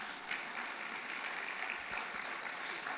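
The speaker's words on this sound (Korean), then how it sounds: "여러분, 그래도 박수는 해주셔야 되지 않을까요?" An audience at a church special service gives sustained, even applause, a continuous crowd of clapping hands at moderate volume with no clear break.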